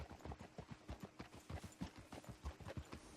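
Horse hooves clip-clopping in a regular trotting rhythm in Red Dead Redemption 2, close and steady throughout with no voices over it.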